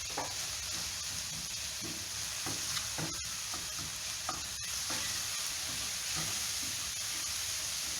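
Chopped onions sizzle steadily in a hot pan for a quasadilla filling, with a continuous frying hiss broken by scattered scrapes and taps of stirring, close and fairly loud, with no talking.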